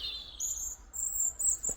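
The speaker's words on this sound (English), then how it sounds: "Oh, there's actually a robin." A robin sings a few thin, high, sweet phrases in Hurcott Woods, Worcestershire, fairly faint and distant, against a quiet outdoor background.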